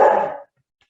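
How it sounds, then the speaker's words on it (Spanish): Dogs barking indoors in one loud, brief burst that cuts off abruptly, leaving silence. "Perdón, mis perros están ladrando."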